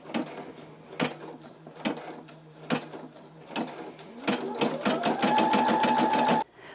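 A Brother SE625 embroidery machine stitching: slow, spaced mechanical thumps at first, then a fast, steady run of close, loud stitching clatter with a rising motor whine that stops abruptly.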